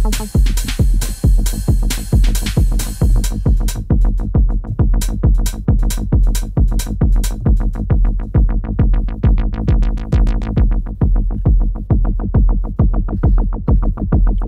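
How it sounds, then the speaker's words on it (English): A loud, punchy synthesizer bass line pulses in rapid, rhythmic notes, its tone brightening and darkening as the filter sweeps, with no voices. "a lead sound like this could be a very, very good bass."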